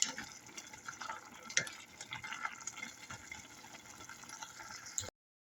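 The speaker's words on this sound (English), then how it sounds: "now the chili flakes are in, so it's time to keep stirring this" Spicy noodles with chili flakes are stirred in a pan, giving a soft continuous sizzle with faint scraping and wet clicks that stay quiet throughout and end abruptly.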